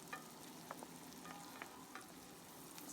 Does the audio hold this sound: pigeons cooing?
no